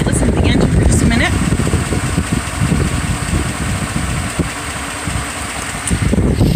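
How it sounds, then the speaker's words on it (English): A 2013 Chevy Silverado pickup idles with a steady low engine rumble that is close and fairly loud, with faint background noise and occasional small clicks. "I'm gonna let you listen to the engine for just a minute."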